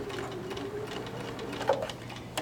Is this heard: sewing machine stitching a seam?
yes